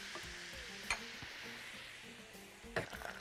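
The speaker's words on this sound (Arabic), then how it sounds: "البصل بيطعم الاكل جدا جدا جدا. بس هسيبه كده يتحمر" Onions fry in a pan with cubes of meat, a soft continuous sizzle broken by a few sharp stirring scrapes and clinks against the pan.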